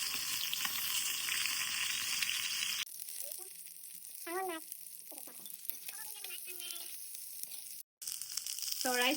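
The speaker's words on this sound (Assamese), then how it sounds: "এই যে মাছ ভাজি আছোঁ আৰু ফুটি আছোঁ" Fish frying in a pan in a home kitchen gives a loud, dense sizzle for the first few seconds, then drops to a quieter, steady crackle with some brief voice sounds over it.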